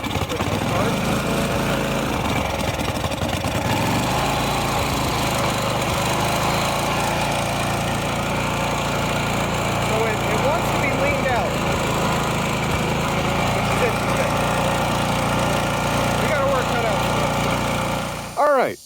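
Husqvarna LTH 18538 lawn tractor engine running steadily and fairly loud, a continuous droning rumble from close by, briefly sputtering at the very end.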